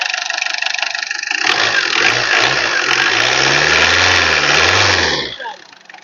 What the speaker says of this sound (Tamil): இப்போ இந்த இன்ஜினோட பீட்டை கேளுங்க